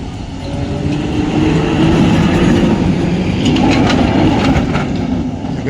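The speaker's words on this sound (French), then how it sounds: "Ça, c'est du vieux tram." An old tram rumbles past on a sloping street in Prague, a loud low rolling roar with metallic rattling and squeals that swells and holds close by.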